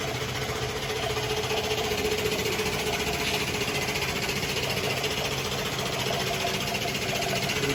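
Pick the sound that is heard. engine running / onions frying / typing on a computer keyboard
engine running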